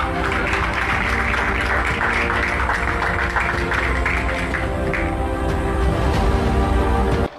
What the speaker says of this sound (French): Applaudissez pour l'animateur.